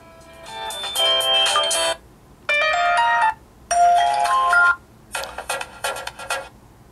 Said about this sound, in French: On va regarder un peu notre sonnerie du téléphone.